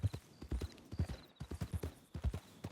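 Horse hooves clip-clop in the Red Dead game world, a close, steady series of soft hoofbeats in an even walking rhythm with short pauses between groups.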